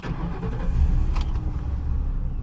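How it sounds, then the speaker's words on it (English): A 2008 Ford Crown Victoria Police Interceptor engine rumbles steadily at low pitch while driving, a continuous moderate drone with a brief rattle partway through and no talking. "Today we are driving a 2008 Ford Crown Victoria Police Interceptor."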